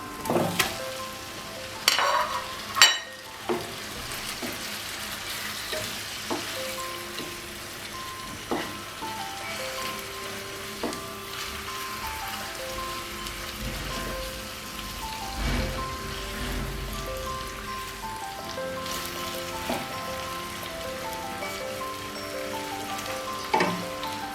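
Pangash fish sizzling as it goes into fried spice masala, a loud crackling hiss with clattering bursts and scraping stirs near the start, settling into an even fry with occasional pops.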